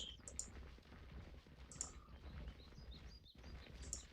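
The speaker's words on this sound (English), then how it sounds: "We got some stock effect bird sounds that sound like they could have been out of fucking Oblivion." Stock ambient bird chirps from the video game Tyranny, faint high tweets scattered across the stretch over quiet clicking.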